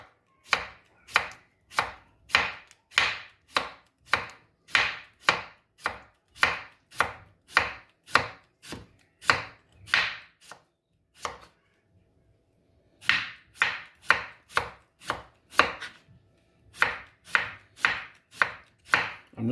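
A knife slices thinly through cucumber on a board for a chickpea salad, a fast, steady run of crisp chops close up, broken by a short pause midway before the rhythmic cutting resumes.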